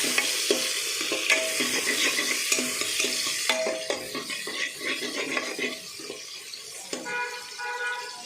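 Frying in a pan for a Sunday mutton curry, a moderate sizzle with repeated scraping stirs and clatter, thinning out midway as running water joins in, with no speech.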